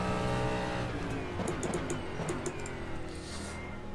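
A race car engine in the rFactor 2 driving sim, from endurance racing content, drones loudly and continuously with shifting pitch and brief gear-change blips throughout.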